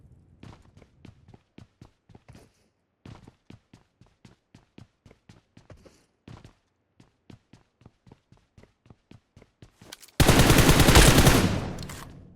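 In PUBG Mobile, light rhythmic ticking steps run for several seconds before a sudden, loud sustained burst of gunfire erupts near the end as a bot is shot.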